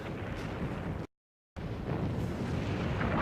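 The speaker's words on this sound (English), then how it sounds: "Concrete forts, once thought impregnable, collapsed from Big Bertha's one-ton shells." Rumbling artillery blasts from the Big Bertha howitzer firing one-ton shells at concrete forts, a dense, loud, continuous roar of explosions broken by a brief silent gap before resuming.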